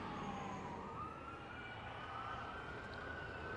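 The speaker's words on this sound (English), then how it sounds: "Sort of a chilling moment as those sirens came on at the same time here." Several fire engine sirens sound together outside a shopping center in northwest San Antonio, a wailing tone rising over steady traffic and crowd noise, moderately distant and continuous.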